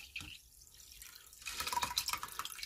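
Rice water drains through a strainer into a sink, first faint scattered drips, then a louder steady patter and trickle of liquid splashing close by.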